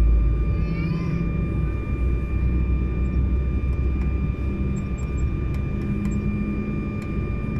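Steady low rumble of an Aeroméxico Embraer 190 jet cabin while preparing for takeoff, constant engine drone throughout with a few faint clicks, no talk.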